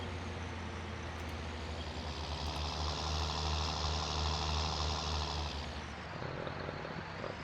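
A John Deere 8310 tractor engine in Farming Simulator 19, a steady low diesel drone with a rising whine as it revs up, then easing back down near the end.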